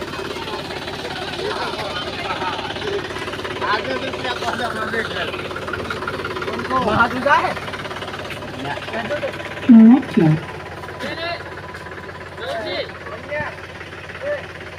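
A tractor engine runs steadily throughout, a low rumbling chug with people talking over it and a couple of brief louder knocks.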